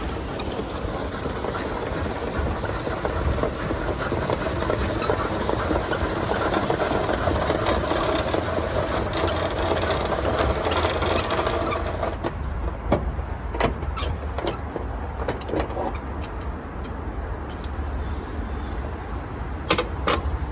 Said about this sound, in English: We take our winding handle and wind the canopy out